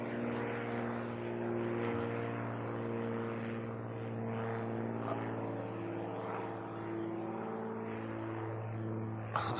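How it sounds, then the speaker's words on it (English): A propeller aircraft engine drones overhead in flight, a steady laboring hum with a wavering, uneven pitch that swells and fades slightly, continuous and moderately distant. "That engine is struggling not to do a Donnie Darko."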